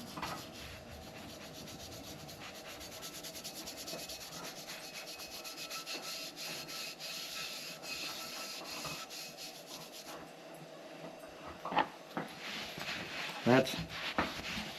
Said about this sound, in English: I'm just cleaning, I'm not polishing here